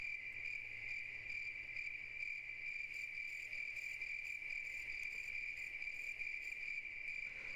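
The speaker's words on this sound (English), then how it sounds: "Playing my cricket sound effects over this is pointless because just doubling up the cricket sounds." Crickets chirp in a steady, continuous high trill that holds at an even level throughout, with no voices.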